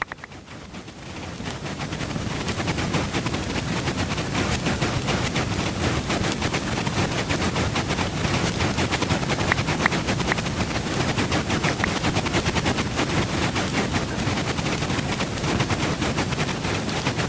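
A Minecraft 1.13.1 zero-tick cactus farm runs with item pushers feeding four hoppers, producing a dense, continuous stream of rapid crackling pops and clicks at steady volume throughout.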